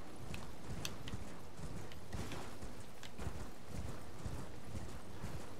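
Hooves clip-clop in a rapid, steady galloping rhythm as a horse is ridden in the video game Elden Ring, fairly quiet and continuous with no talking over it.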